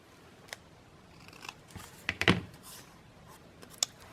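Scissors trimming a paper hinge for a journal card: a few crisp, separate snips, with a cluster of quick close cuts in the middle, heard alone.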